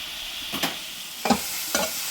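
Vegetable noodles frying in a pan under a steady soft sizzle, with three brief scraping stirs of a utensil, close and without talk.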